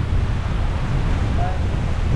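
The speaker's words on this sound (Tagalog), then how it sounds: "kahit ganitong malakas ang alon, mababa pa raw yung tubig na yan." Strong ocean waves and wind on an island shore, a loud continuous roar with heavy wind buffeting the microphone, no voices.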